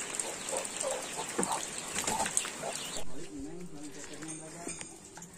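Chickens cluck in short bursts close by in a remote village in West Java, Indonesia, after rain, with a person talking over them partway through and some background noise.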